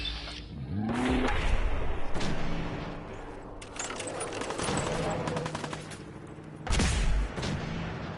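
Rapid automatic weapon fire in Fallout 4 rattles in sustained bursts with mechanical clatter and brief swooshes between volleys, loud and close, while someone talks over parts of it.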